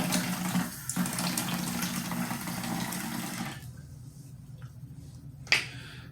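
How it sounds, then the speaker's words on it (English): Water runs from a bathroom tap and is splashed onto the face during a wet shave, a close, steady hiss of flow and splashing that cuts off, followed by quieter drips and one sharp clack. "let's get some water on the face."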